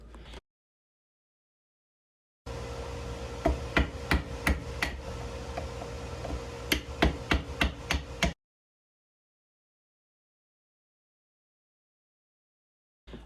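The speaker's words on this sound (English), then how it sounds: "drilling and chiseling out the mortises for the breadboard ends" Sharp mallet blows on a chisel ring out over a low hum while chiseling mortises in wood for breadboard ends, a few spaced strikes followed by a quicker run of about seven hits, then silence.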